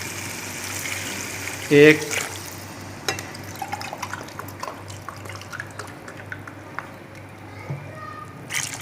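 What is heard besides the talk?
water being poured into a cooking pot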